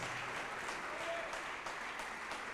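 Congregation applauding inside a church during a sermon, a steady wash of many hands clapping at moderate volume, continuous for the whole stretch with no voices on top.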